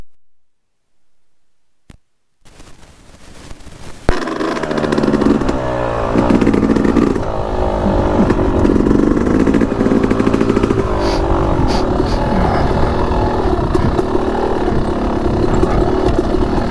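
A Yamaha YZ250X two-stroke dirt bike engine is ridden off-road, crackling and revving loudly up close after a brief quiet start, its burbling note rising and falling steadily.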